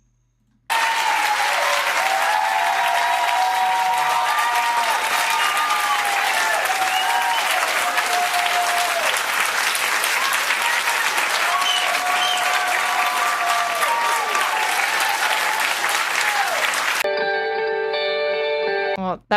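A studio audience on a TV panel show bursts into sustained, dense applause with crowd noise and some talk mixed in, steady and loud for most of the stretch before cutting off near the end.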